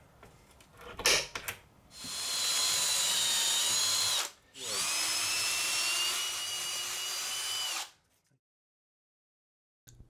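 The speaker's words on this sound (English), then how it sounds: "Next, I will punch and pre-drill the holes for the screws." A power drill pre-drills screw holes for mending plates on a DIY pneumatic drop panel prop, two sustained whirring runs with a brief pause between, close and steady.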